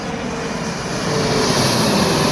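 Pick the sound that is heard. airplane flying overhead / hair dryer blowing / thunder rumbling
airplane flying overhead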